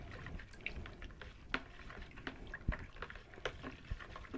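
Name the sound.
stirring apricot country wine must with water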